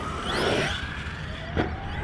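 An HPI Savage XL Flux V2 electric RC monster truck on a 4S battery whines past, its motor pitch rising and falling, with a short burst near the end and no voices.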